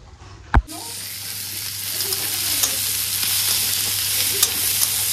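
Steady loud sizzle of onions frying in a pan, a constant hiss with a sharp clatter near the start and occasional light scrapes.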